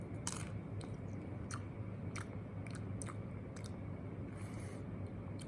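Close, quiet chewing of stale, soft popcorn, a series of irregular faint crunchy bites and mouth sounds over a low steady hum.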